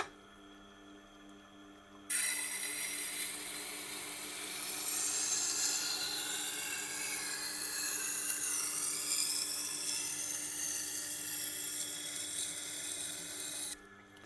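A Hammer Stahl santoku kitchen knife is sharpened at 15 degrees per side on a spinning wheel dressed to about 960 grit, a steady high-pitched grinding whine that starts suddenly and holds for around twelve seconds before cutting off.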